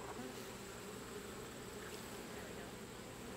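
Steady, low insect buzzing from a full cup of honeybees collected for a varroa mite test, continuous and even throughout, fairly quiet and close, with no talking.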